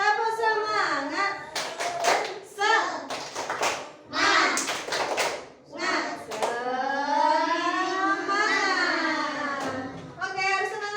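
A group of children chant the Indonesian 'tepuk semangat' clapping chant together in a loud rhythmic call, sharp hand claps punctuating the beat between their lines.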